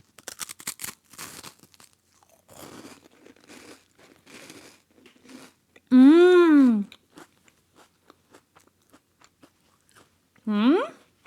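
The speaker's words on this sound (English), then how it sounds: "This is the crunch you've all been waiting for." Someone bites into a crisp Japanese seaweed snack, giving sharp crunchy bites and chewing in close bursts, broken by two loud, high, squealing vocal sounds.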